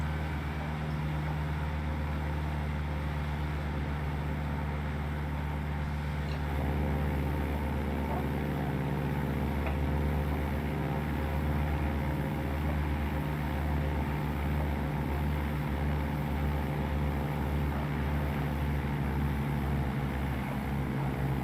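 Steady propeller engine drone of a vintage airmail-route plane in a flight simulator game, a continuous low hum with harmonic layers that grows slightly louder midway and holds at an even level throughout.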